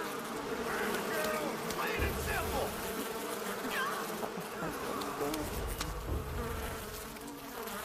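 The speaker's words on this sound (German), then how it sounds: "ich kann die Bienen nicht totschlagen" Bees buzzing in Far Cry 5, a steady insect drone with rising and falling whines running throughout, with a voice talking over it.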